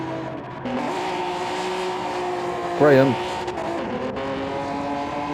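A race car engine in Gran Turismo 7 drones steadily, rough and struggling as if something is wrong with it, with a brief rising whine near the middle while commentators talk over it.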